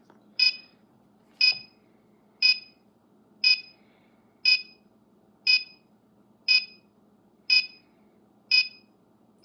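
Ten evenly spaced high-pitched electronic beeps from a homemade Arduino-based home alarm system counting down while arming, one roughly every second, loud and steady over a faint low hum.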